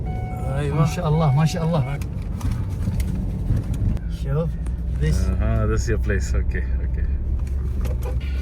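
Four-wheel-drive vehicle driving over desert sand, its engine a low steady rumble beneath loud, near conversation that runs through most of the stretch.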